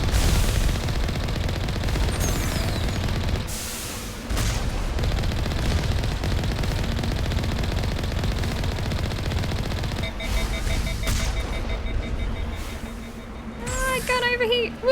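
Turret gunfire rattles in Mass Effect 1 Legendary Edition, a steady stream of rapid shots over a rumbling game backdrop, broken by brief pauses, with a person talking over parts of it.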